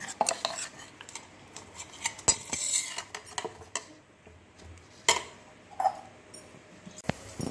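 A spoon scrapes and clinks against a bowl as grated bottle gourd is stirred into dosa batter, with scattered sharp taps and irregular scraping close by.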